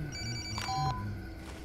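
A phone rings in the video game Far Cry 2 with a steady electronic tone that warbles briefly, heard close over a low ambient game hum, with no talking.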